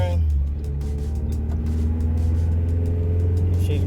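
A car with an H22 engine, known to be misfiring, rumbles steadily through a test drive, with a low engine drone and occasional uneven pulses under faint voices.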